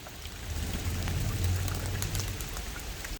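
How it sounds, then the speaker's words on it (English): Steady rain falls on an Amsterdam street, a continuous broadband hiss with a low rumble underneath, fairly close and even throughout, with no voices. "I think the rain's cooling down a little bit"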